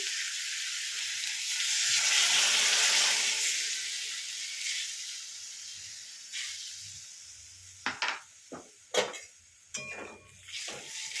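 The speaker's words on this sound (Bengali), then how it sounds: "অল্প জল দেবো" Water splashed into a hot pan of chicken stew bursts into a loud, broad sizzle and hiss that swells, then gradually dies down, followed by a few sharp clinks and scrapes of utensils against the pan.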